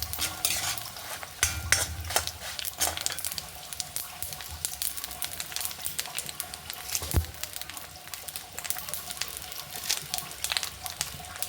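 Coriander seeds and sesame seeds dry-roasting in a pan, a close crackling sizzle with constant rattling and scraping as a spoon stirs them, and a few louder clacks against the pan.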